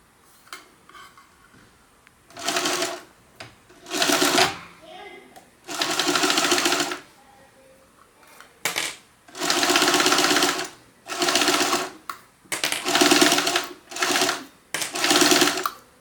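A sewing machine stitches two fabric pieces together with a half-inch seam allowance while making a small stuffed stocking stuffer for pets. Close, loud bursts of rapid mechanical whirring stop and start about nine times, with brief quiet pauses between runs.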